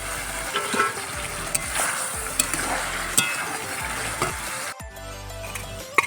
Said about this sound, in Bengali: এবার আমি আলুগুলো দিয়ে দিচ্ছি